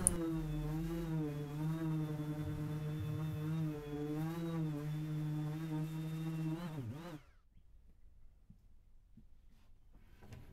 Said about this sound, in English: Just a little bit of gratuitous sanding